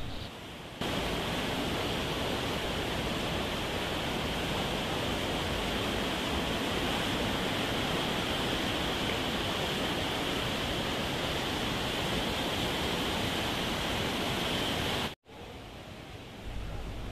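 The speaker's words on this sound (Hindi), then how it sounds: "जो यहाँ पर बहाव है गंगा जी का वो भी काफ़ी ज़्यादा है" The swollen Ganges river at Haridwar rushes past in a dense, continuous roar of broadband water noise, heard alone without speech. It drops out abruptly near the end and then returns more quietly.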